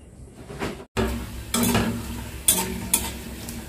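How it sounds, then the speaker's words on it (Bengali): Papad frying in a pan with oil, bursts of crackling sizzle and stirring scrapes close by, interrupted by a short silent gap and several sharp louder pops. "পাঁপড় ভাজলাম"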